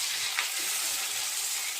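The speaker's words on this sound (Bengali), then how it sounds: "এবার আমি অ্যাড করছি 2টো টমেটো।" Chunky tomatoes frying in a pan for matar paneer, a steady close sizzle with faint stirring, heard on its own without speech.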